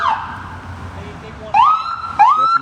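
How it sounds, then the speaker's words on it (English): An ambulance siren wails in short rising sweeps, two loud whoops breaking in over a quiet street background, fairly close by. "That's an ambulance."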